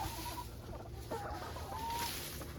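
Chickens clucking inside a farm coop, soft scattered clucks and short calls at a moderate distance over a steady low background rumble, with no one speaking.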